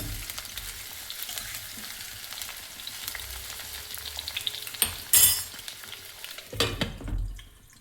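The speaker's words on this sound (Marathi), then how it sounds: "सुरुवातीला तेलात कांदे टाकत आहे आणि हे तेलात 1-2 मिनिटं होऊ द्यायचे" Onions fry in hot oil alongside bitter gourd in an Indian home kitchen, a steady close sizzle with stirring scrapes and a few sharp spatula clatters toward the end, no voices.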